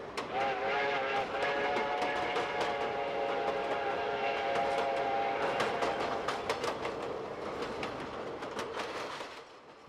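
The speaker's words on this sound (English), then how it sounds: "boarded a train in New York City and headed upstate" A train runs steadily with continuous rumble and rail noise, with a sustained whistle tone and rhythmic clicking of wheels over joints, fairly loud and constant throughout.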